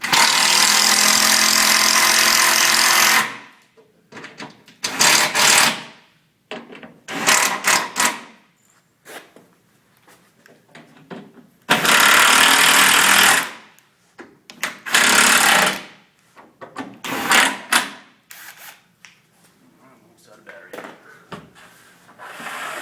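A power drill drives screws into a base cabinet, loud close bursts of whirring and grinding repeated several times with short pauses between each screw.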